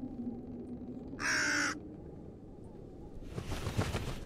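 A bird in the horror video game Jisatsu gives a single loud caw over a low steady drone, followed later by a burst of rushing noise.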